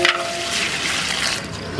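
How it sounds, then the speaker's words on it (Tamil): Water is poured into a large pot of chicken biryani being cooked for forty people, a continuous rushing, splashing pour that stays close and loud throughout, with no voices. "அடுத்தது தண்ணி ஆட் பண்ணிக்கலாங்க."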